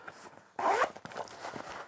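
A zipper on a medium-sized handmade lined fabric bag is pulled along its top closure in one quick, close rasping zip, with soft handling rustles before and after.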